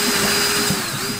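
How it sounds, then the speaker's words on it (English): A powerful drill spins at high speed while drilling out rivets from ceiling and wall panels, giving a loud, close, continuous whine with a steady motor tone and no pauses. "really good powerful drill will really help you"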